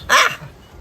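A single short, loud dog bark close by, sharp and abrupt, followed by quiet room tone.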